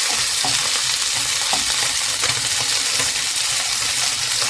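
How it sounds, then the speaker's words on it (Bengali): Tangra fish rubbed with salt and turmeric fry in hot oil in a kadai, a loud, dense, continuous sizzle and crackle close up throughout, with no voices. "নুন হলুদ মাখানো ট্যাংরা মাছগুলো ভাজার জন্য দিয়ে দিচ্ছি।"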